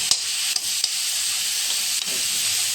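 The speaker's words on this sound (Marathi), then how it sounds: "म्हणजे मिक्स होण्याकरिता हलवून घ्यायचं त्याला." Salted fish pieces stirred in a hot frying pan, steady sizzling hiss with a few sharp scraping clicks of the utensil, close and fairly loud, no talk.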